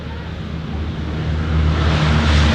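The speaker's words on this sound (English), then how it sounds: "What a wonderful sound, the Wright Cyclone." The Wright Cyclone radial engines of the B-17 Flying Fortress Sally B roar during takeoff at Dunsfold, building into a loud, broad, droning rumble with wind buffeting.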